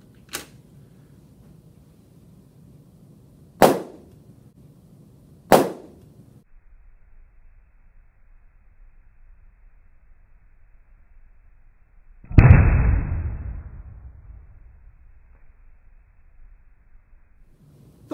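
A carbon dioxide-filled balloon held to a candle flame bursts, with a couple of sharp cracks early and later a louder boomy pop that rumbles and fades slowly in an otherwise quiet room.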